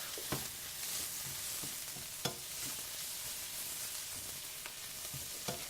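Chopped garlic, onions and peppers sizzling in a pan for cheesesteak sandwiches, a steady, fairly quiet frying hiss with a few soft stirring scrapes and taps.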